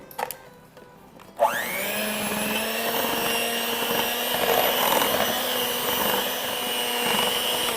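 Electric mixer whirring through brownie batter with eggs and vanilla, starting abruptly after a brief quiet moment and running steadily and loudly to the end.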